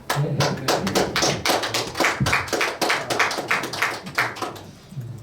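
Steady rhythmic clapping from an audience at an alumni gathering in a university faculty hall, a series of sharp, evenly spaced claps close and loud, tapering off near the end with almost no talk over it.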